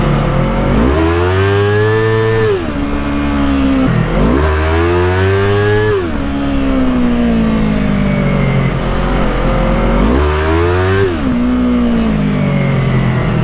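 A Yamaha R25 motorcycle engine on the road, revving up and down through repeated gear changes, a loud, close, rising and falling engine whine with no talking.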